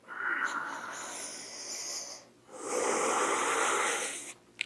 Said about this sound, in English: We can now breathe.